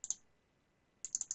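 A computer mouse double-clicks twice, each a quick pair of crisp, close clicks, separated by about a second of near silence.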